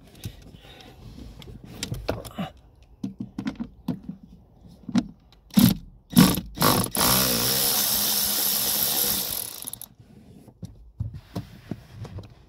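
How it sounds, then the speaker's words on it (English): A cordless ratchet undoes 10 mm nuts on a Vauxhall Zafira B during accelerator pedal replacement, with a long buzzing whir after several clicks and clunks of tools and sockets, close and loud. "using the cordless ratchet because it's actually quicker"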